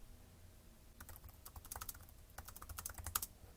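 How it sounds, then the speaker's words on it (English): Fingers tapping on a Lenovo computer keyboard, a quiet, muffled run of rapid keystrokes that starts after a short pause and continues in uneven bursts, close to the microphone. "Let's try that compared to a nearby Lenovo keyboard."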